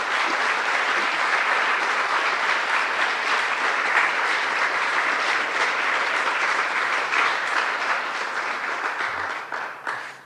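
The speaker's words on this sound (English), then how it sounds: "let's give them a round of applause." A large crowd claps and cheers in sustained, steady applause that holds for several seconds before trailing off at the end.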